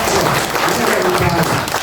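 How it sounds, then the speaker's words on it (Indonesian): An audience applauds during a campus talk show on earthquake mitigation, producing a dense, steady wash of clapping throughout, moderately loud with a faint voice underneath. "Tepuk tangan dong semuanya."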